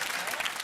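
A comedy-show audience breaks into a brief, dense patch of applause from a sizable crowd, heard close and loud.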